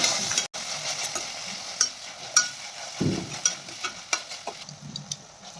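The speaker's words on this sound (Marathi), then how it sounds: "आता आपण यामध्ये टोमॅटो टाकून घेऊयात। टोमॅटो छान आपल्याला परतून घ्यायचा आहे।" Tomatoes fry with ginger garlic paste in a pan for a veg biryani, with a steady sizzle under repeated scraping strokes and light taps of a spatula against the pan.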